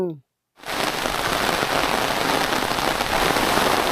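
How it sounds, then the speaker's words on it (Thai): Steady, heavy rain from an afternoon storm pouring down over countryside fields, a continuous dense hiss of drops hitting surfaces after a brief silent moment at the start. "ฝนตกมาแล้วครับ"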